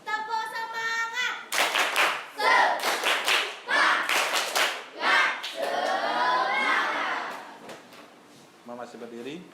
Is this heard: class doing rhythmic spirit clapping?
yes